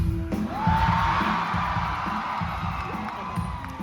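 A live audience at a Jujutsu Kaisen screening roars in a broad, steady crowd cheer for Toji's first appearance, loud and sustained for about four seconds with a faint whistle early on.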